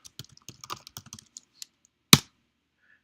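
Quick, light clicks of typing a command on a computer keyboard, a short irregular burst of close keystrokes ending in one louder key strike, likely the enter key.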